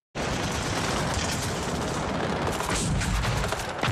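A rocket launcher fires in a war movie, a sudden loud blast that keeps roaring and rumbling for several seconds in dense gunfire-like bursts.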